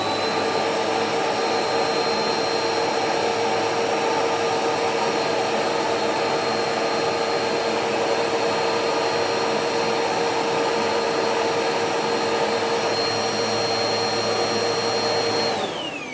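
A Bissell PowerForce Helix Turbo upright vacuum cleaner runs continuously with a steady loud whine and airy roar, close by, then starts to wind down at the end.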